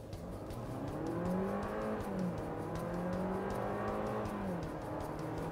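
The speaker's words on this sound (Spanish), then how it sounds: "Pie izquierdo al freno, gas a fondo." Seat Arona compact SUV launching at full throttle from a standstill with the brake held, engine note rising steadily and sustained, moderately loud, with no talking.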